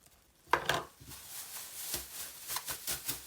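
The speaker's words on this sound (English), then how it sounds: "pour the rice in." Dry rice grains rattle and patter into a plastic bag while making a juggling ball, in a quick, scattered burst, fairly close and quiet, followed by crinkling handling noises.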